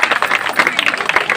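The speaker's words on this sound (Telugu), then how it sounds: "అందరు గట్టి చప్పట్లు కొట్టాలి" An audience at a stage event for a Bharat Mata puja and cultural program in Saroor Nagar claps steadily on request, many hands in a dense, close patter for a brief moment.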